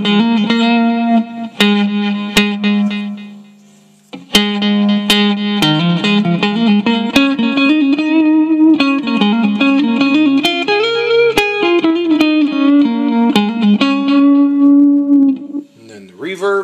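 Electric guitar through a Roland Micro Cube amplifier's delay effect plays sustained notes and short melodic runs, each note ringing on with echoing repeats; sharp picked attacks stand out.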